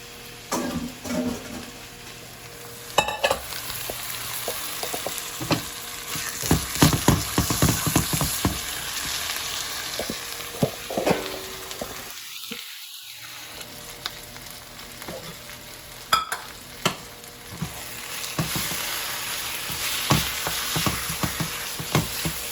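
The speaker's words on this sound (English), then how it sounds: "oil hot, vegetables over there sauteed up, we just gonna cook the whole thing" Zucchini noodles and vegetables sauté in hot oil, a persistent close sizzle broken by frequent scraping and clattering stirs, with a short quieter lull midway.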